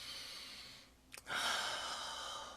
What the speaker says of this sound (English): So let us breathe.